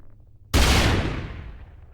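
A grenade detonates in the Terminus Zombie Survivors game, one loud sudden boom with a broad, full-range burst that decays over about a second and a half, standing alone with no voices.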